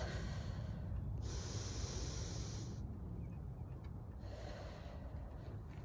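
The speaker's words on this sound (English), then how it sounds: "I'm gonna take a moment to catch my breath" A person breathes heavily and snorts after climbing a steep hill, quiet and close against a constant wash of wind noise. A faint high whine briefly rises and fades, and nobody speaks.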